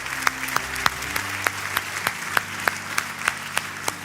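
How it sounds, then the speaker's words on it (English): A church congregation claps after a closing prayer during a sermon service. Distinct sharp claps ring out at a steady rhythm over a low, sustained musical drone, with a few hands gradually joining in. "let's give God a round of applause"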